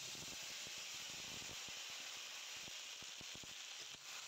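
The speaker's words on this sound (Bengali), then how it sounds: "আলু ভাজা যেই তেলটা বেঁচেছিল সেই তেলের মধ্যে আমি জিরে ফোড়ন দিয়ে দিলাম।" Cumin seeds sizzling in hot oil left over from frying potatoes, a faint steady hiss broken by soft scattered crackles and pops, with no talk.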